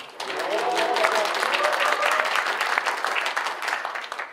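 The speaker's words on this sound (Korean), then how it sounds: "여러분들의 힘찬 박수로 시작하겠습니다" Loud, energetic audience applause opens a civic and religious assembly at the National Assembly, a thick sustained roar of clapping that stays steady and close throughout.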